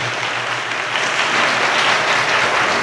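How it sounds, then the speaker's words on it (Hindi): A church congregation claps together loudly, a dense, steady burst of many hands filling the room throughout. "ताली बजाएं परमेश्वर के लिए जोर तरीके से"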